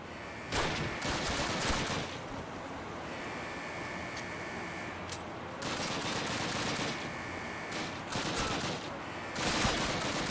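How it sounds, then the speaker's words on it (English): Bursts of automatic gunfire and scattered shots ring out repeatedly in Call of Duty (2003) during the Eder Dam mission, loud rattling volleys separated by short lulls over a constant ambient wash. "I keep hearing that sound, and there's definitely no one where those gunshots are coming"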